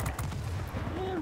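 20mm cannons on an A6M5 fighter plane in World of Warplanes fire in a steady, dense stream of rapid shots under engine drone, with a voice talking over the gunfire.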